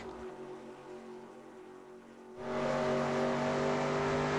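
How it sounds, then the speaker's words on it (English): A race car at full throttle at roughly 170 miles an hour on Darlington in the NASCAR Racing 2002 video game: a steady engine drone that suddenly surges into a loud, roaring, sustained full-power whine. "we're at full throttle going about 170 miles an hour"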